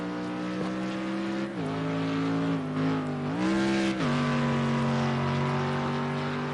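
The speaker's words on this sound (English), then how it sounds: "That's a lovely sounding Mercedes-Benz powering up to the start-finish line to set his newest time." A Mercedes-Benz GT3 race car in Project Cars 2 accelerates toward the start-finish line at Brno, its engine droning steadily with a gear change, a brief dip and a rising pitch sweep before settling into a sustained high-revving tone.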